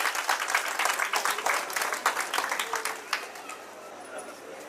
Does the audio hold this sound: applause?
yes